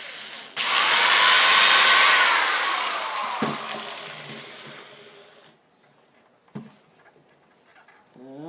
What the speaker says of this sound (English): Drill.